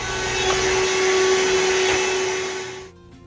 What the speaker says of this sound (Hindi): हस्बैंड जो है वैक्यूम के साथ ये फ्रीज़ को पीछे से पूरे क्लीनिंग कर रहे थे इसकी